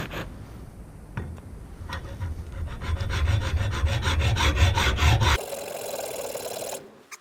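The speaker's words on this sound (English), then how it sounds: "you're going to run that hacksaw right down that ridge right there" A hacksaw cuts a Scrambler 1200 XE motorcycle mirror plate with a run of fast, close, loud rasping strokes, then the sawing stops and a quieter hiss remains.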